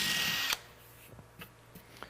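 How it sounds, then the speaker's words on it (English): A power drill whirs briefly while drilling a hole in a cabinet, stopping after half a second, followed by a few faint clicks and taps. "So we drill a hole."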